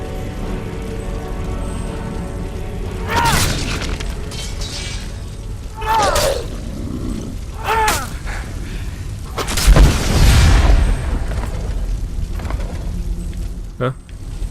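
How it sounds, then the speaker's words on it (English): In the video game Skyrim, a soul gem sets off a trap: a few sharp crashes and shattering bursts, followed by a heavier booming explosion around the middle, all heard over continuous game ambience. "that soul gem literally just set off a trap"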